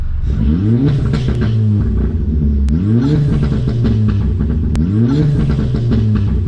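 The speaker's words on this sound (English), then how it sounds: "As a car person, you get gassed over little explosions in your exhaust" A Volkswagen Scirocco with a pop and bang engine map revs up repeatedly in three rising surges, with sharp cracking pops from the exhaust between them, loud and close.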